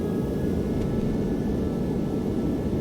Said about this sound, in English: Reverses are out. Speed brakes are out.